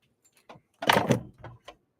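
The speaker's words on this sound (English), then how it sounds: "There I go, knocking my magnifying glass over again." A magnifying glass knocked over on a table during an unboxing, heard as a sudden close clattering knock followed by a few smaller rattling taps as it settles.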